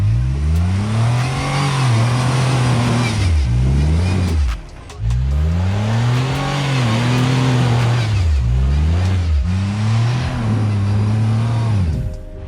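A Jeep engine revs hard while climbing a muddy off-road trail, loud and close, rising and falling in repeated surges with a brief drop in power partway through.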